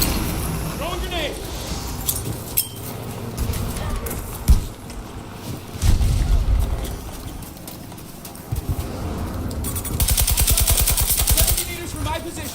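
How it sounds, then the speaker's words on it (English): Scattered gunfire and bursts of rapid shots mix with hoofbeats and other game noise, with people talking over it. "I think it was just gunshots."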